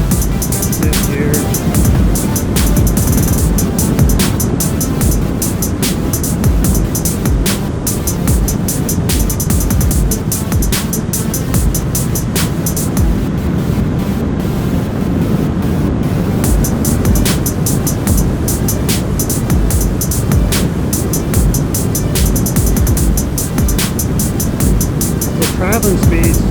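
A Honda CB500X motorcycle cruising at 65 to 70 mph in fifth gear, a constant loud roar of wind and engine drone filling the whole stretch, with a rider's voice partly over it.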